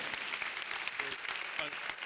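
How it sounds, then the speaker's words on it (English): An audience applauds at a university Black Male Initiative annual conference, a faint, distant, even patter of clapping with a murmur of voices beneath. "Another round of applause for Mr. Cartagena"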